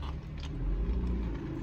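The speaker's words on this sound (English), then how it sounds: "I never understand people who want a loud car. Like, who wants a car that grumbles?" A loud car engine grumbles nearby at a McDonald's drive-through, a steady low rumble that keeps going without a break.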